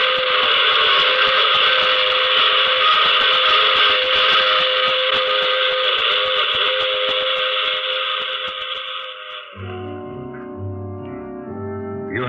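Steam train whistle blowing loud and sustained for about nine seconds in an old radio drama, then cutting to a short musical sting.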